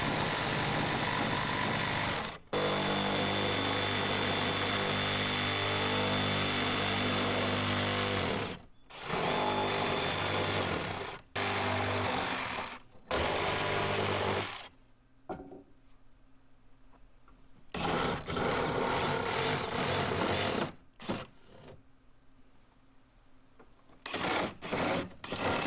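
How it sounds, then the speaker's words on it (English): A Sawzall reciprocating saw cuts a hole for a chicken coop door, loud rapid buzzing bursts that start and stop repeatedly, some long, some short, with quieter gaps between. "we're going to use a Sawzall"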